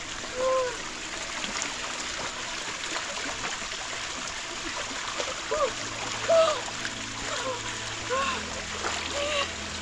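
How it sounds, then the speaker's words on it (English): Fresh spring water flowing and splashing in a steady stream, with occasional louder splashes over a constant watery rush while people talk nearby. "That's spring water."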